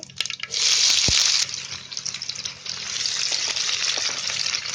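Onion hits hot oil already crackling with cumin and mustard seeds in a kadhai on a gas stove, setting off a loud, bright sizzle that surges, eases, then keeps frying steadily close by.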